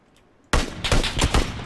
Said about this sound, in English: Been shot at from behind.